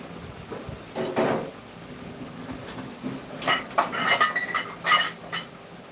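Cutlery and dishes clink and rattle nearby in a room, a few clatters early then a busier run of metallic chinks and knocks, with no talking.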